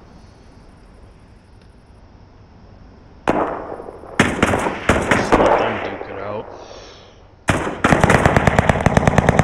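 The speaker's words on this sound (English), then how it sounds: "I hear gunshots." Video game gunfire: bursts of rapid shots, some in quick automatic strings, loud and close. Someone speaks between the volleys.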